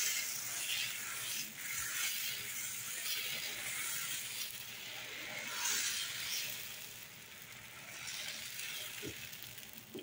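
Dosa batter sizzles steadily on a hot pan greased with onion peel, a continuous close hiss and crackle with no talk.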